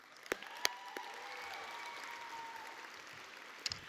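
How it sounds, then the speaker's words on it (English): Graduates at a high school graduation ceremony applaud themselves, a faint, distant patter of clapping with a few sharp, closer claps standing out. "So give yourself a round of applause."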